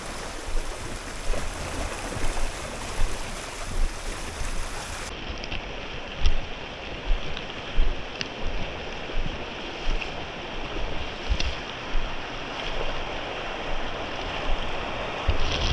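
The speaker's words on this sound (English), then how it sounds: "The water is moving fast, so I have to cross very carefully." A fast-flowing mountain stream swollen by rainwater rushes loudly and continuously, its broad roar pulsing slightly as the water churns over rocks.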